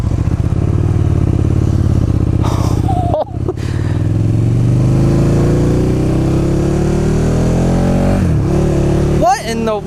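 A KTM Super Duke 1290 motorcycle pulls away and accelerates, its engine note climbing smoothly over several seconds before a gear change and another rising pull. Loud and close, with a voice briefly audible over the engine.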